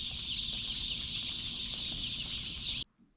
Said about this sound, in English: The chicks are here.